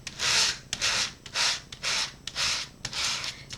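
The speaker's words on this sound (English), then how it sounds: "use your sander across your cardstock" A sanding block rubs across the raised side of sunflower-embossed cardstock in about seven steady back-and-forth strokes, close and crisp with brief pauses between them, and no voices.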